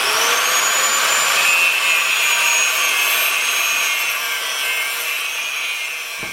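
A quarter-inch-thick steel block is cut in half with a power saw, producing a loud, continuous high-pitched grinding screech that holds steady before easing slightly near the end.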